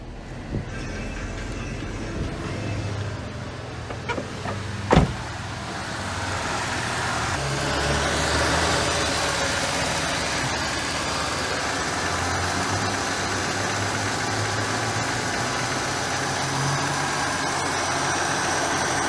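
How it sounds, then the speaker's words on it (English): A Chevy Cavalier engine cranks and starts with a brief loud catch, then settles into a steady idle as the AC cooling fan adds a rising whooshing drone, continuous and close with no talking. "Now I'm going to start it up, throw on the AC, and we should have that fan kick on"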